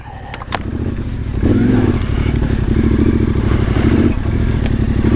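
A loud Yamaha Tenere 700 motorcycle with a modified aftermarket exhaust rumbles steadily with a deep, throaty exhaust tone, swelling slightly louder midway and holding there, with no talking.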